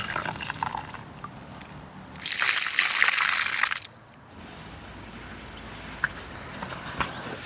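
Salted water is poured and sloshed over banana heart for outdoor cooking, a loud gush lasting about two seconds amid quieter dripping and handling noises before and after.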